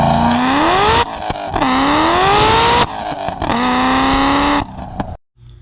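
A Trans Am with traction trouble accelerates hard in three long pulls, the engine note rising through each gear, loud and close, with brief dips between shifts before cutting off at the end.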